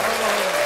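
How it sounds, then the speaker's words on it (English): Audience applause at a live comedy show, a steady dense burst of clapping that fills the short moment, fairly loud and even throughout. "Can you give her a big applause real quick?"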